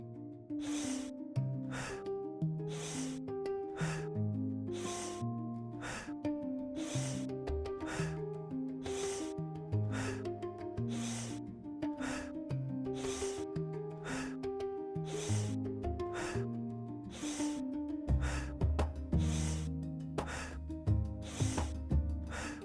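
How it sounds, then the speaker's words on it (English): Forceful Tummo breathing during a guided level-two session, with rapid, rhythmic sharp inhales and exhales repeating steadily and close for over twenty seconds. "Now we're going to go to level 2 Tummo breathing."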